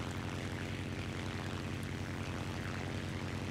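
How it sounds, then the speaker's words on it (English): Steady droning propeller engine of an I-16 Type 27 Ishak fighter in War Thunder realistic battle, a continuous loud low hum with a constant rhythmic pulse and no voices. "I'm easing off of my engine because I don't want to overheat it too bad"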